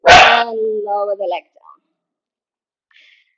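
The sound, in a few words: dog barking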